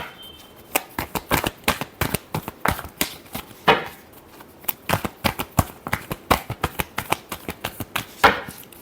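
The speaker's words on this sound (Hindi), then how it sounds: "last shuffle" Tarot cards being shuffled by hand in a steady run of crisp, close riffling slaps and flutters, with short pauses between bursts and no talking over them.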